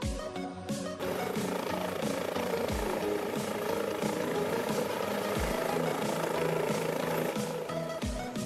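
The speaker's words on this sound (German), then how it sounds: "Am Nachmittag bietet sich dann ein Helikopterrundflug über die drei großen Buchten" A sightseeing helicopter flies over the three large bays and around Table Mountain, its engine and rotor giving a loud, steady drone with a pulsing throb that runs without a break.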